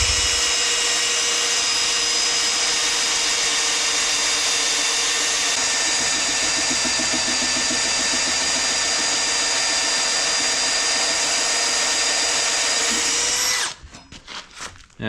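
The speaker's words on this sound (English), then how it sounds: "whining sound. I think that happens if you try to drill like really hard steel." A power drill whines steadily and loudly while boring into very hard steel in a scrap-built box grader project, running almost without pause for about 13 seconds before cutting off into a few brief, rough bursts.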